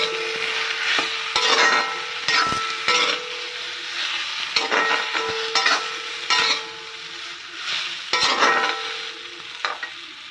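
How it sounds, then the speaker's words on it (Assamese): Spices sizzle in a pan for jackfruit curry while a spoon repeatedly stirs and scrapes, the frying hiss continuous and close with rhythmic bursts of louder stirring. "অকণমান মছলাখিনি ধুনীয়াকৈ মই ভাজি দিম ধুনীয়াকৈ।"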